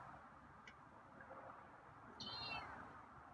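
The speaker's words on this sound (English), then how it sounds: "Okay, it is a meow." A feral cat gives a short meow, fairly faint against a quiet outdoor background on a hot day.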